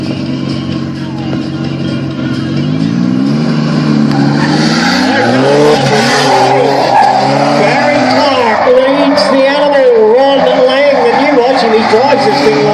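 A drift car at a Stadium Drift Australia Level 2 event slides around a stadium track, its engine wailing and tires squealing continuously and loudly, with an announcer's commentary running over it.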